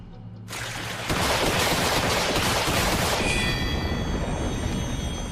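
Sustained burst of rapid gunfire from a weapon with unlimited ammo, opening with a sudden onset and holding a dense, loud, continuous volley for several seconds before easing slightly in intensity near the end.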